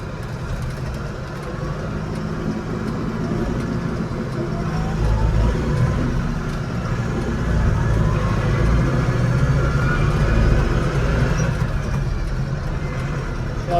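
Landini 5-120rs tractor driving along, a steady close diesel engine drone with low rumble and mild shifts in pitch as it moves, continuous and unbroken.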